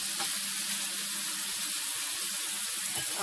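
Chicken hits a very hot pan over high heat and gives a loud, steady broadband sizzle that lasts the whole time, hissing densely with no pauses and no voices.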